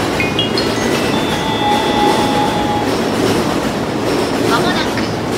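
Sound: train passing through Ofuna station

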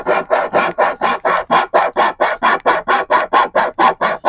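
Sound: small folding saw from a multi-tool cutting

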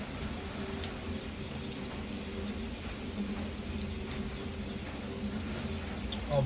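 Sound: heavy rain

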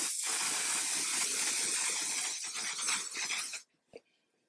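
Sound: spraying setting spray on face

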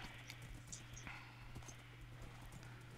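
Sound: horse hooves clip-clopping in the video game Minecraft

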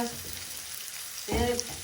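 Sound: tempering ginger in hot oil

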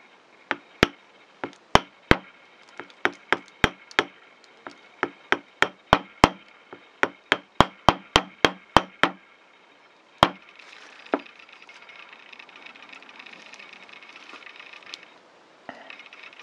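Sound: tapping repoussé punch to dome silver petal tips

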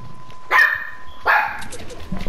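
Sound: big dog barking

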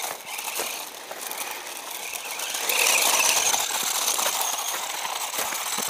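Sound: brushed-motor 1:12 RC truggy car driving on gravel

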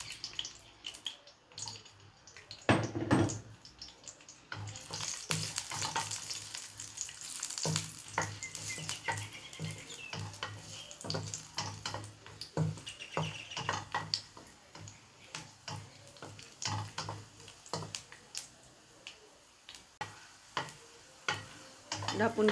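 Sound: cashew nuts frying in oil

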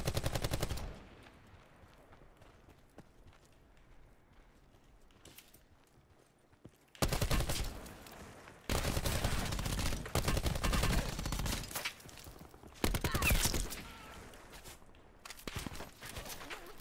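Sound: gunfire in video game Call of Duty: Black Ops 4 Blackout

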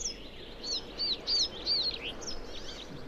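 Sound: birds singing in arctic spring forest at dawn

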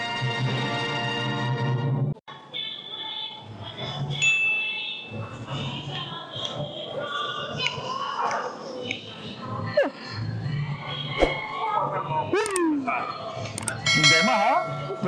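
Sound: bell being rung in a restaurant

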